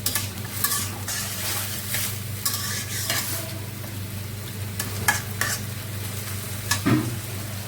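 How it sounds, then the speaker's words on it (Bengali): Chickpea bhuna with potatoes, green chilies, tomato and onion sizzles and fries steadily in a pan, with occasional stirring scrapes standing out close over the constant frying. "আলু দিয়ে আজকে ছোলা ভুনা হবে কাঁচামরিচ দিয়ে আর টমেটো দিচ্ছি পেঁয়াজ"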